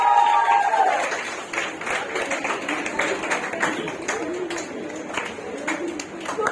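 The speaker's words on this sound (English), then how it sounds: "Guys, please keep clapping." Audience clapping at a community felicitation ceremony for girls' careers, a moderate steady patter of hands in a hall with faint background chatter.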